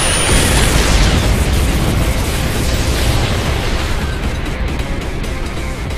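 A casket cannon blast in the video game No More Heroes 3 gives a loud, sustained roaring explosion that fills the whole stretch and slowly thins toward the end, with no talking.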